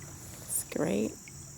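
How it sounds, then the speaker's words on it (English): Insects chirp outdoors on a sunny day out on the water while kayaking, a brief near buzzing trill with a steady high whine behind it. "listen to all the insects"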